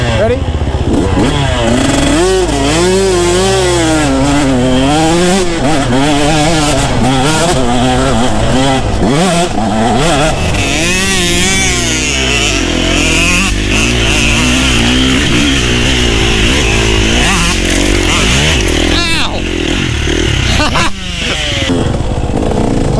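KTM 150 enduro motorcycle two-stroke engine revving hard and wavering up and down on a hill climb during a wheelie, loud and near, with people shouting and talking over it.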